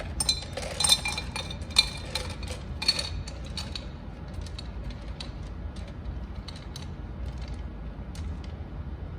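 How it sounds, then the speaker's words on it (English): Glass pieces being set into a kiln for fusing, a few light clinks and scraping creaks close by early on, then quieter handling against a faint background hum. "I'm going to put the rest of the glass in"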